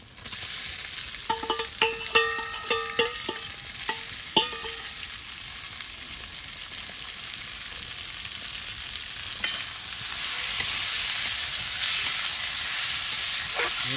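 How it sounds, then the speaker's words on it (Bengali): Boneless chicken fries with garlic, onion and ginger for chicken rolls, with a steady close sizzle, clattering stirs and scrapes of the utensil early on, then a louder continuous hiss of frying alone. "এই যে আমার চিকেনটা আমি আদা রসুন আর পেঁয়াজ দিয়ে ভালো করে ভেজে নিচ্ছি"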